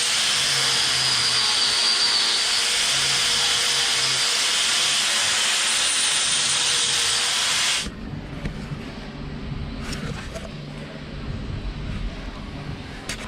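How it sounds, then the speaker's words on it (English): An angle grinder smooths a metal bracket for a bicycle dual-caliper brake setup, a loud continuous high whine and hiss that cuts off abruptly near the end, leaving quieter workshop noise. "So what I'm gonna do now is just grind that smooth and get it just like a nice finish"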